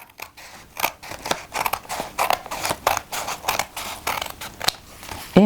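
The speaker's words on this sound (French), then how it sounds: "Et maintenant, il n'y a plus qu'à découper. On suit bien la ligne." Scissors snip steadily through paper along a drawn line, a close, rapid series of crisp cuts and rustles continuing without pause and with no talking.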